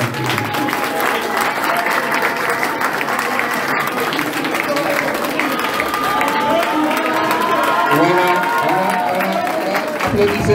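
Crowd at a dojo inauguration in Casamance clapping and cheering loudly and continuously, with voices and a warbling tone audible through the applause.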